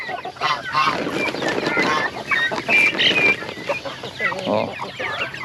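Broiler chickens cluck and squawk on a farm, a dense, continuous flock noise close by with overlapping calls throughout.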